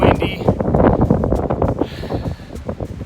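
Wind gusts across a high mountain cliff edge on Cucamonga Peak, buffeting the microphone with a loud, steady rumble and rustle throughout, with a speaking voice over it.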